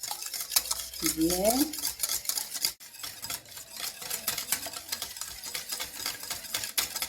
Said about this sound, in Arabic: تنستمر في التحراك حتى يندمجوا لي العناصر